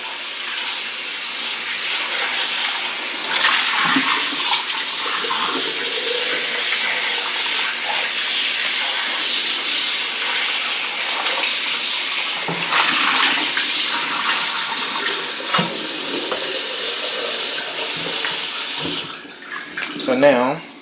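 Tap water runs steadily onto raw steak being rinsed in a kitchen sink for jerk steak, a loud continuous splashing gush with brief shifts, cutting off near the end.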